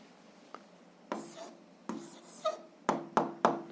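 Pen strokes on paper while working an algebra exercise, a series of short scratchy bursts that come closer together toward the end, close and fairly quiet with no talk.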